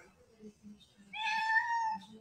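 A cat meows once, loud and drawn out, after soft background voices and household sounds.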